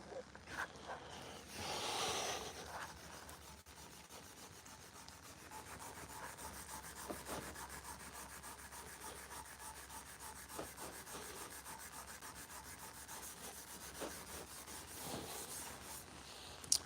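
Sandpaper scuffs a surface by hand in steady back-and-forth rubbing strokes, faint and close, with one louder burst near the start and occasional breathing.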